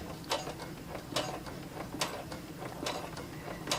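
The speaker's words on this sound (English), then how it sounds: "And a couple of stitches backwards." Sewing machine stitching a scrunchie in reverse for a back stitch, a soft rhythmic mechanical clatter with regular ticks about every second, no talking.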